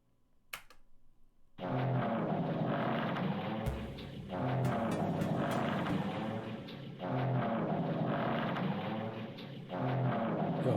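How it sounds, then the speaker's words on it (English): Creaking, squeaking ambience from a room in the video game Danganronpa 2: Goodbye Despair, a steady groaning drone that swells and dips in repeating waves with occasional sharp clicks. "It's creaking and squeaking all over the place."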